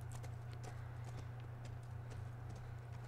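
Horse hooves clip-clop steadily in The Last of Us as a horse is ridden, a quiet, even walking rhythm under a low droning background hum.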